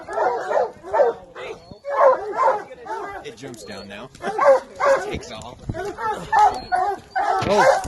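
Hunting dogs bark and yip in repeated bursts at a black bear during a Utah archery hunt, sounding fairly close, with someone talking quietly over the barking.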